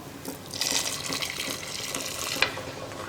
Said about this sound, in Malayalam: ഇതിലേക്ക് നമുക്ക് തിളപ്പിച്ച് വെച്ചിരിക്കുന്ന വെള്ളം ചേർക്കാം